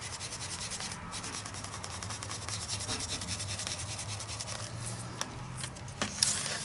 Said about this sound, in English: And then I use it as like a little scrubber.